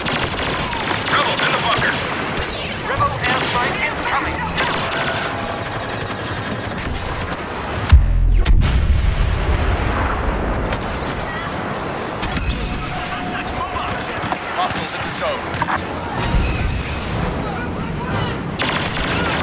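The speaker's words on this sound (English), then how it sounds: "Rebel airstrike incoming!" A rebel airstrike hits during a Walker Assault battle on Scarif in Star Wars Battlefront, with a heavy explosion about midway amid constant gunfire, blaster shots and battle noise.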